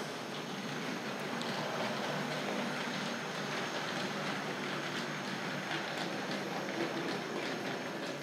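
A Tri-ang R.50 Princess Victoria model locomotive runs on track, a steady, faint whirring rumble that holds constant throughout.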